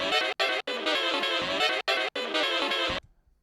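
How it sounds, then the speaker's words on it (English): A chopped saxophone sample plays in bright, choppy bursts with abrupt cuts between fragments, ending suddenly into silence. "sample of a saxophone which I chopped, and it sounds like this."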